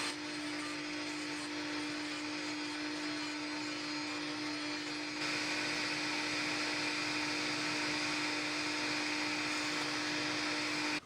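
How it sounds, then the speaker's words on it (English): Router table bit cutting a 3/4-inch-deep mortise in wood with a sled moved back and forth, a loud, steady high-pitched motor whine with a hiss of cutting that rises slightly partway through, no talking. "So I'm raising the bit while moving the sled back and forth while keeping an eye on the Wixie"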